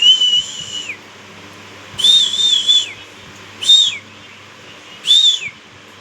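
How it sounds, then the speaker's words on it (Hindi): A person whistles to call a pet indoors: four bright, rising-and-falling whistles, each about a second long, with short pauses between, close and clear over a quiet background. "इसको सीटी बजाऊंगी तो आती है।"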